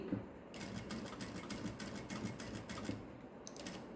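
A sewing machine stitches fabric for a fancy saree blouse, giving a quiet, steady rapid clatter of the needle that starts after a short moment, runs evenly and then pauses before brief resumed stitches.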